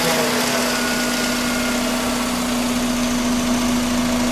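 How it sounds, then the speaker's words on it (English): A car engine idles steadily and loudly, a constant mid-pitched hum with slight vibration and no speech, running while intake vacuum is checked for an exhaust restriction. "I'm going to start the engine"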